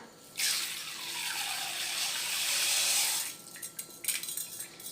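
Rice tipped into a bowl of water to soak for a home-cooked mandi: a steady rushing splash lasting about three seconds, followed by a few light clinks of the vessel, close and fairly loud with no talk.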